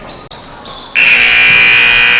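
Loud, sustained electronic end-of-half buzzer in a high school girls' JV basketball gym, cutting in sharply after a second of court noise and holding steady to the end.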